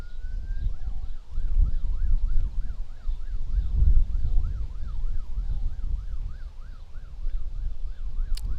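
A police siren wails in the distance beyond a school cricket match between two first XI sides, its rising and falling tone cycling steadily under gusty wind noise on the microphone.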